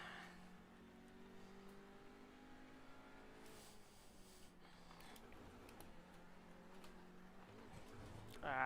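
Porsche race car in the sim racing game iRacing, engine droning steadily with pitch shifts as it brakes and accelerates, fairly faint, with a brief louder rise at the end.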